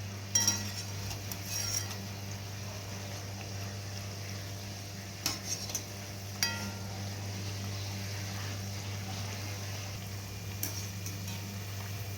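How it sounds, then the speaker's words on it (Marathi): Crab bhaji (khekda bhaji) frying in oil over a medium flame, giving a steady low sizzle with occasional clinks and stirring ticks from utensils, continuous and alone with no talking. "आपली भजे तळून घेऊ"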